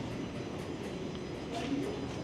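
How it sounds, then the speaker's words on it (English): A subway train in downtown Toronto rumbles at a station, a low, steady roar of rolling cars heard at moderate distance with faint squeals, and no talk over it. "I could go on this train, but we'll wait for the next one"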